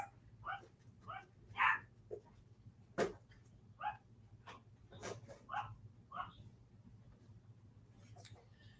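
Dogs bark in short, separate bursts close by, with a faint low hum running underneath and occasional soft human sounds between the barks.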